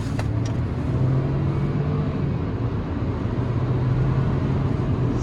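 Used Geely Coolray crossover with turbo engine accelerating on the road, heard as a steady, continuous low engine and tyre drone from inside the cabin with no talking.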